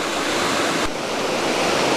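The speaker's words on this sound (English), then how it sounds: "this is only the first waterfall on the walk here." A waterfall on a scenic walk pours steadily, giving a loud, constant rushing roar close to the listener with a short dip in the middle.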